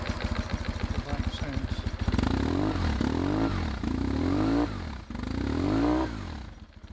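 A BMW 1150GS motorcycle engine runs close by, a rhythmic low chugging idle that swells into several rising revs and drops back between them.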